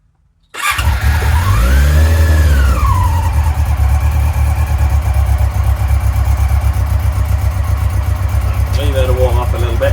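A Yamaha R6 motorcycle on choke on a cold morning of about 3 degrees: a short starter whine, then the engine catches and settles into a loud, steady, high idle that runs on close by, with no talk.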